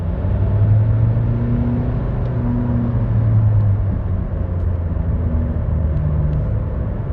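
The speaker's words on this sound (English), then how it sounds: "Just having the engine revving up to a certain point and then just sort of staying there" Chevrolet Volt engine droning at a steady, held pitch while driving, a continuous loud low rumble and whir with no talk over it.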